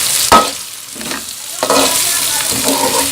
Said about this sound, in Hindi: तो हिलाएंगे